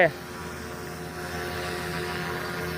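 A remote-controlled model helicopter hovers nearby with a steady, loud buzzing whine of its rotor and motor, continuous after a brief bump at the start.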